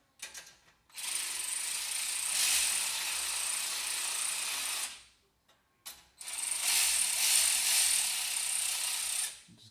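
A ratchet clicks rapidly and steadily while tightening bolts on a Ferrari 430 exhaust mount, close and crisp in two long runs separated by a short pause.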